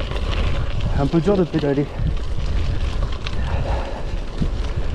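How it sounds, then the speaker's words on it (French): Strong wind roars into the microphone as a rider pedals a Genesis Croix de Fer gravel bike along a gravel track, a loud steady rush that fills the whole stretch while someone speaks briefly over it. "Il y a un vent de malade."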